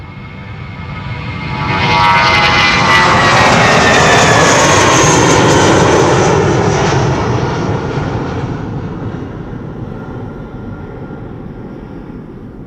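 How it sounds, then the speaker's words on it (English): A British Airways Airbus A320 in oneworld livery passes at Schiphol Airport. Its jet roar swells quickly after about two seconds, stays loud and close for several seconds, then slowly fades away, with no talk. "quickly back to the A320, going to London Heathrow. BA in the One World livery, flight 429."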